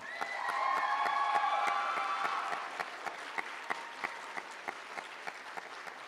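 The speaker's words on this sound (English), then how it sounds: "Let's give a huge round of applause to your next year's Productions Company." A high school drama awards night crowd bursts into applause with a few cheering voices, then the clapping thins to sparse, individual claps spaced out across the remaining seconds.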